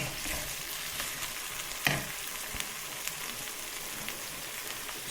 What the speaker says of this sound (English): Stir in the lemon juice.